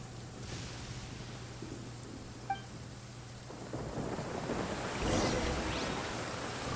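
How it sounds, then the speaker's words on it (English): A thunderstorm in a Genshin Impact game cutscene: steady rain hiss with a low, building rumble of thunder that swells toward the end, no voices. "I hate when a storm starts up while there's a conversation going on."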